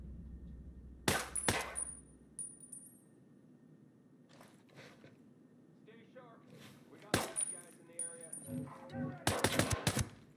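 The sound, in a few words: gunfire in a video game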